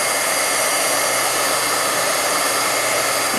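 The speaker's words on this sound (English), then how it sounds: "I'm heating it until the embossing powder melts." A heat tool melting embossing powder on a clear-mount faux mosaic stamp blows with a steady, loud, hissing roar, close and unbroken from start to finish with no talking.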